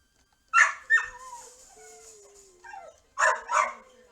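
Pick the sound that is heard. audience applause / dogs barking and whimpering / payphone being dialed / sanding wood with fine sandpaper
dogs barking and whimpering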